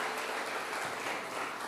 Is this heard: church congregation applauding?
yes